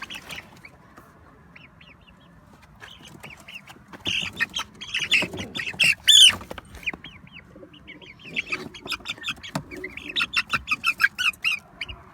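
Ornamental poultry in a coop give off scattered squawks and clucks, some near and loud, others fainter, in irregular bursts with short pauses.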